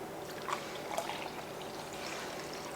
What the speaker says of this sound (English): pour my coffee over it.